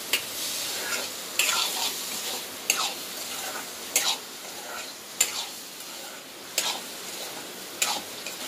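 Mutton is stirred and fried in a pan, with a soft continuous sizzle broken by loud scraping stirs about every second and a half, close up and without talk.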